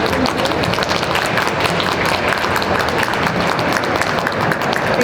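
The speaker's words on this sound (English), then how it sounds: "Can we give a big round of applause for Nad?" A crowd applauds steadily at a cosplay panel and workshop at AthensCon 2019 in Athens, Greece, giving dense, even clapping with no break for the full stretch.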